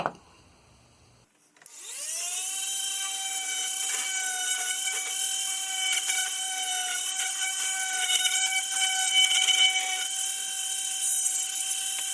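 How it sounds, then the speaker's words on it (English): After a brief quiet start, a high-pitched drill whines steadily up close, drilling holes in a USS Enterprise-D model build, running continuously for about ten seconds. "I'm just going to drill some holes in here, get rid of the bulk of it"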